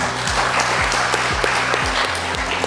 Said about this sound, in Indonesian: Kita kasih aplaus untuk rekan-rekan buruh.